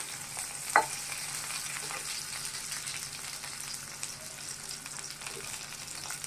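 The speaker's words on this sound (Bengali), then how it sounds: "এখানে পটলটা আর আলুটা ভেজে নিচ্ছে" Pointed gourd and potatoes fry in oil in a home kitchen, a soft, steady sizzle with a faint stirring clink near the start and light scraping throughout.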